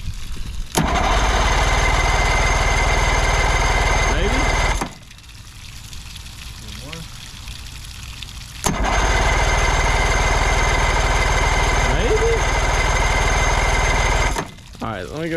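Boat engine on a DIY-built boat, primed with the choke engaged, cranks loudly in two long bursts of steady rhythmic churning separated by a pause, with a brief third attempt starting at the end.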